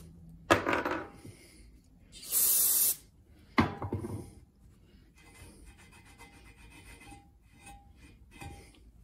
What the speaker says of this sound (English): we just clean it off with some brake clean